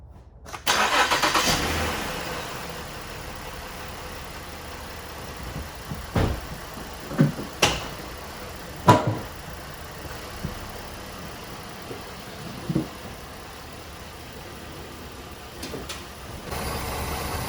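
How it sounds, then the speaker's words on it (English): A 2012 Mazda CX-9 engine cranks and starts after an oil change, then settles into a steady idle, with a few sharp clunks and knocks over the low, even running hum. "I'm gonna let the car run for a couple of minutes to get the new oil cycle throughout"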